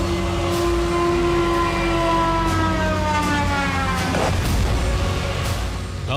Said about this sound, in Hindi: आधी रात यूक्रेनी हमलों से मॉस्को में अलर्ट सायरन बज उठी।